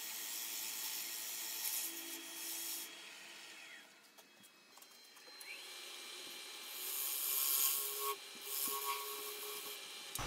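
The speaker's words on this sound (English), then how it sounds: "I'm just using a negative rake scraper to get rid of any little lines or grooves" A negative rake scraper smoothing away small lines and grooves on a turned wood platter on a lathe, giving a steady soft rubbing rasp that swells and eases over several passes, heard alone with no talk.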